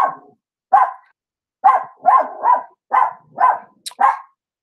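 A dog barks repeatedly near and loud, about eight sharp barks in an irregular rhythm with short gaps between them, heard inside a garage with the doors and windows open during work on a 1961 Pontiac Catalina.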